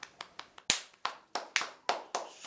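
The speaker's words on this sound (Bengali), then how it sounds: "সবাই হাততালি দেন।" About ten handclaps land in an uneven run, each sharp and crisp. They sound like a small group or a couple of people clapping nearby in a quiet room, with no voices over them.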